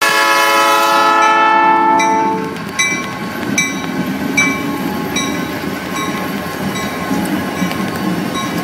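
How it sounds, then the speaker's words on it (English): A loud army train horn blasts for about two seconds, then the train rolls past with a rhythmic clatter of wheels and cars, close by and steady. "Oh, the Army train, hell yes."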